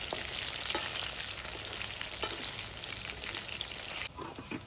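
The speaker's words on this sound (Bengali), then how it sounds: "আমি আগে কয়েকটা অল্প করে ভেজে দেখবো যে তেলটা ঠিক হয়েছে না" Soya chunks frying in hot oil, a continuous bright crackling sizzle that holds fairly even, close by, with a brief dip near the end.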